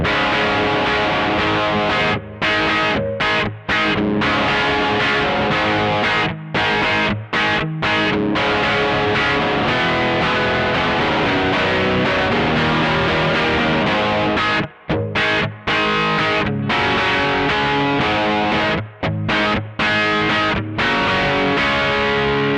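A Cort Source CR semi-hollow electric guitar, played on its back pickup through a dirty amp channel, rings out in sustained distorted chords and riffs with brief stops between phrases, loud and continuous, with no talking.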